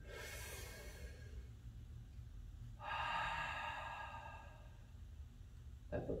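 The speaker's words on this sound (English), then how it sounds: "Take a nice deep breath in." A deep inhalation during a calf stretch in a taekwondo training session, heard as a long, soft rush of breath in followed by a quieter exhale, close and alone without talk.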